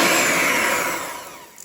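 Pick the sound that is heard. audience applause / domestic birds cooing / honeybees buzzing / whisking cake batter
whisking cake batter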